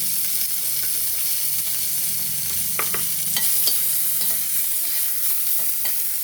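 Mint leaves fry in a little oil for a tomato peanut chutney, giving a steady close sizzle and hiss with scattered small pops and scraping stirs. No voices are heard.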